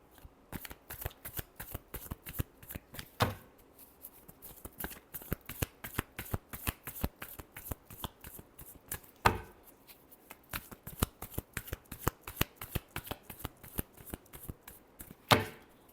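Tarot cards being shuffled by hand, a close run of rapid papery riffles and flicks with a few sharper slaps, quiet and with no talk over it.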